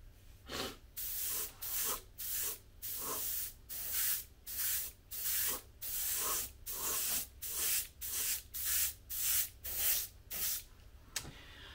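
Airbrush spraying paint onto the body shell of a Super Baja Rey 2.0 RC car, a steady series of about fifteen short hissing bursts in a regular rhythm, close and clear, with no talking.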